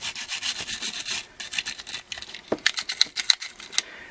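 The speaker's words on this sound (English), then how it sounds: "You can clean down into your mag well, just getting your brush down there" A brush scrubs down inside the magazine well of a Glock pistol frame, close and fairly loud, with rapid rasping strokes and a few sharp clicks near the end, no talking.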